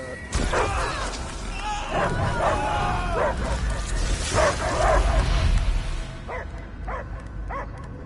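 A dog barks repeatedly in a video game (Guardians of the Galaxy), sharp, loud yips and woofs over a busy, noisy background.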